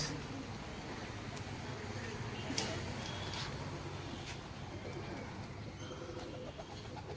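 Pigeons at a home loft coo softly in the background against steady outdoor noise, with a few faint chirps and no clear voices.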